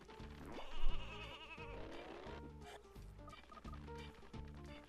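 A sheep bleats repeatedly in the game Space Station Silicon Valley, on a battery farm level. Wavering cartoonish bleats rise and fall over a bouncy, rhythmic game tune.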